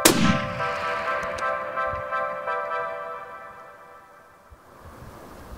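.338 Lapua Magnum rifle fired at a 2,100 meter target, one sharp loud shot at the start followed by a long ringing, rumbling decay that fades over several seconds.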